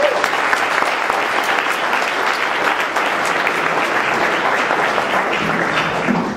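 A crowd at a New Jersey political campaign gathering claps in sustained, dense applause that stays loud and even throughout, with some voices mixed in beneath.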